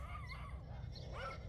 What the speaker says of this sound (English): neighbor's dogs are out.